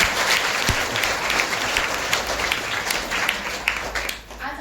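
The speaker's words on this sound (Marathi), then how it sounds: "एकदा जोरदार टाळ्यांचा गजर" A crowd at a talk on parenting gives loud, sustained applause, steady dense clapping that fades slightly near the end.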